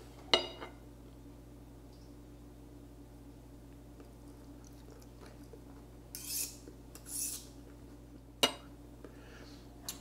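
Cutlery clinks and scrapes on a plate while a crab cake with poached egg and bacon is eaten, giving a few sparse, close taps with short rustling scrapes in between over a quiet, steady background hum.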